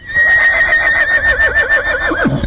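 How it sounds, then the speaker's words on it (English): A horse, left alone away from its herd, whinnies loudly and close by in one long call that wavers and then drops at the end. "he's whinnying to any horse in town"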